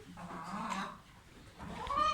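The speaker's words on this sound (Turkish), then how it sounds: "Ee, bu arada tavuklarım. Bu da benim horozcum." Chickens and a rooster clucking in a home garden, close by, with a run of short clucks followed by a louder rising, drawn-out call at the end.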